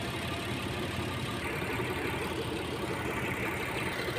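A Mitsubishi Pajero engine idles steadily with an even, continuous rumble that stays close and constant throughout, with no talk over it.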